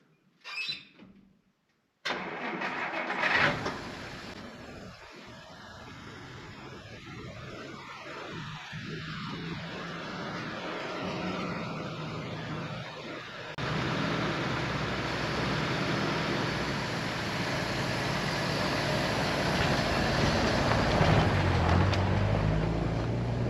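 After a brief opening sound and a short silence, a 1955 Plymouth engine starts and idles with a steady rough rumble that grows slightly louder toward the end, heard up close with no talking.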